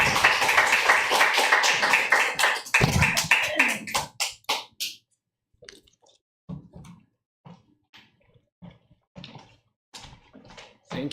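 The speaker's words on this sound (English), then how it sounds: "Please, one more round of applause for Gedda." Clapping from a book launch audience after a poetry reading, a short burst of hands that thins out after about four seconds into scattered isolated claps and taps.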